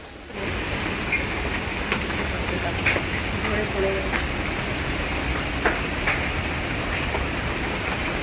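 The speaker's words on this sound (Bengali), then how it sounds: "বৃষ্টি দেখো পুকুরের জলটা আমার মামা ভিজিয়ে করে দিচ্ছে" Rain pours steadily onto a village pond, a dense, even hiss of drops on the water with a few louder individual splashes, constant from start to end.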